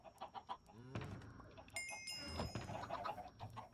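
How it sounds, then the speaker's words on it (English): A Minecraft chicken clucks in short, soft bursts, joined midway by a bright ringing chime, all fairly quiet. "You just pet the chicken and then bling!"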